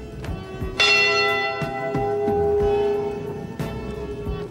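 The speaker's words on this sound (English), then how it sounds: "in the bell's tone are the voices of the men" A memorial bell tolls for the lost crew of the Edmund Fitzgerald, ringing loud and near in a few spaced strikes, each rich tone ringing on and slowly decaying before the next.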